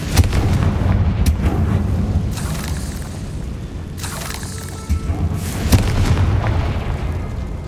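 Loud booming blasts from the Confringo fire spell in Hogwarts Legacy, several heavy explosions bursting at intervals over a dense rumbling game background.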